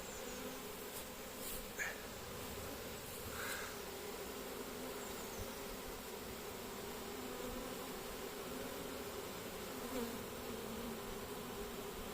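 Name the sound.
honey bees of a captured swarm buzzing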